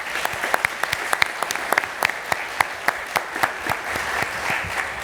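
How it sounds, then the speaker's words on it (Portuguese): Sparse applause at a conference as a minister is introduced, individual claps standing out in an uneven patter that stays moderate and steady without speech. "passo a palavra ao ministro Luiz Gurgel, a quem peço novamente uma salva de palmas"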